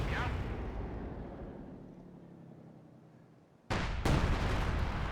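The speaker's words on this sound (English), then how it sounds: "See the explosion?" Tank destroyer fire in Company of Heroes 2: a heavy boom opens and rumbles away over about three seconds, then a sharp blast hits near the end and sustains loud and close.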